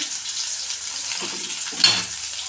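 Mustard seeds and chopped onions fry in hot oil with a steady, fairly quiet hiss and crackle and a brief louder burst near the end.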